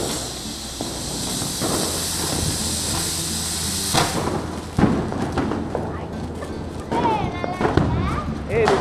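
Diwali firecrackers go off at night in a string of sharp bursts and crackling pops with a few whistling streaks. Voices talk throughout over the fairly loud, busy outdoor noise.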